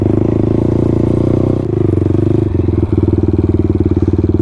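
A smooth-running motorcycle engine at operating temperature pulls hard, its loud, steady, throbbing drone rising and dipping through a few gear changes, close and continuous with no talk.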